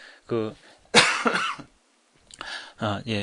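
A lecturer teaching C language coughs once sharply at close range, framed by his own talking before and after.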